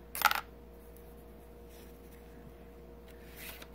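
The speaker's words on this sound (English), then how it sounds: "Gently put down my nice penny." A copper proof penny is set down on a scale with a single brief metallic clink, then only faint room hiss remains.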